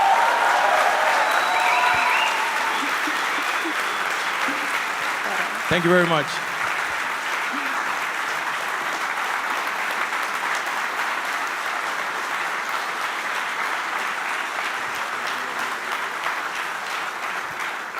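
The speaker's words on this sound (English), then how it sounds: "Can I get one final applause for Koen?" An audience applauds steadily and loudly at an exoskeleton reveal event, with a sustained wash of clapping; a voice speaks briefly over it.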